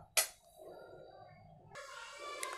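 A metal pot of ragi porridge is lifted off a stove with one sharp clang, followed by low kitchen clatter and a brighter rustling burst near the end.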